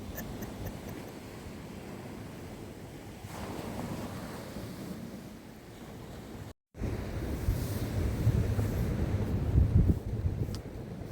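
Sea waves surge and wash onto the shore at The Needles in the UK, a steady roar of surf with gusting wind buffeting the microphone, briefly cutting out before swelling louder again.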